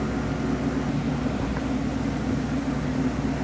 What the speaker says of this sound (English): So that's my portable air conditioner there,